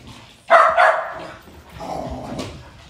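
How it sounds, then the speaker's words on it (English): Dogs bark in a short burst of several loud, close barks, then a quieter second stretch of barking and yelping a moment later, with no talk over it. "We just let the dogs out,"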